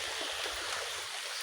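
Flood water flows over a submerged road and yard, making a soft continuous rushing, gurgling wash that sounds fairly faint and steady throughout the brief moment.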